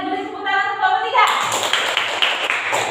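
Classroom of children clapping for group 3, a burst of many hands that starts partway through after a stretch of speech and continues steadily to the end.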